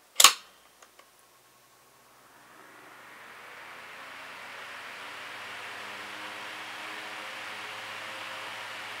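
A Sanyo 9-inch oscillating desk fan, model EF-C9, is switched on to high after a few sharp clicks, then its whooshing airflow rises slowly and builds into a steady, broad rush that holds to the end.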